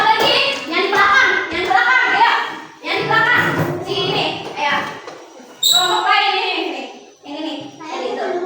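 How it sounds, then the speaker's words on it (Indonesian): Children in a classroom clap their hands in a rhythmic group pattern, sharp claps in bursts mixed with a teacher's and children's voices speaking over them. "Tepuk tangan dulu buat Anissa Ropiki, sudah berani maju ke depan."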